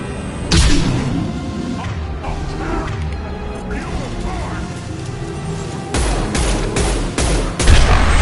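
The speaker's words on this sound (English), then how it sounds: "Firing concussive shot!" A concussive shot fired during a combat scene in Mass Effect 2, with a burst of heavy gunfire, impacts and crashes among loud battle noise and voices.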